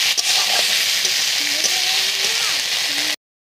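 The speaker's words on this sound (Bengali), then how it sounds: "খুব ভালো করে আমি মশলাকে কষিয়ে নেব।" Spice paste (masala) sizzles and fries loudly in a pan while being stirred, a steady close hiss with scraping strokes throughout, cooked for a Bengali fish curry with homegrown eggplant.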